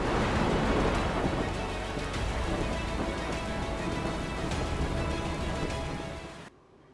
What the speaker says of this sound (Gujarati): મુશળધાર વરસાદી આફત